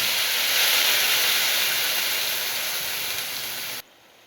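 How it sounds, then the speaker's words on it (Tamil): Ground onion paste hits hot oil in a pan for egg keema masala, giving a loud, bright, continuous sizzling hiss that fades slightly before cutting off abruptly near the end. "அடுத்து நம்ம அரைச்சி வச்சுருக்கக்கூடிய வெங்காய விழுது சேர்த்துக்கலாம்."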